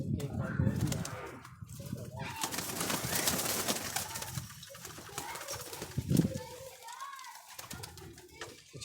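High-flyer pigeons coo softly while being handled, with a few brief wing flaps among them and someone talking throughout.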